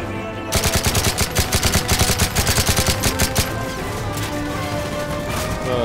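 Rapid automatic gunfire in the Call of Duty Modern Warfare 3 campaign, a loud, rhythmic burst of many shots lasting several seconds, then fading into a lingering rumble and game ambience.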